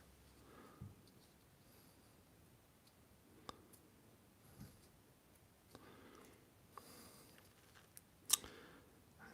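Scissors snipping through material for a custom 200X Beastman figure, heard as sparse, faint, close clicks and cuts spaced a second or more apart in a quiet room.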